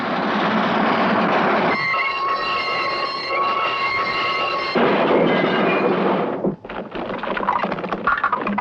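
A southbound express train rolls past on the railroad track with a loud, continuous rumble and rattle, a sustained horn tone sounding partway through, then a brief dip before the clattering wheels return.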